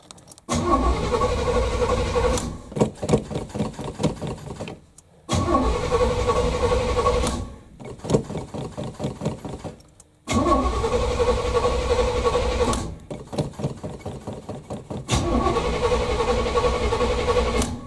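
A 1981 Chevy Malibu Classic cranks repeatedly on a cold start, with four long bursts of loud, rhythmic starter churning separated by short pauses as the engine tries to fire.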